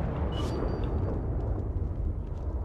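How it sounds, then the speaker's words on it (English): A heavy, sustained rumbling roar of an explosion at a gas station in The Evil Within 2 fills the clip, dense and loud, with a brief high hiss near the start. "Okay, that's an explosion, right?"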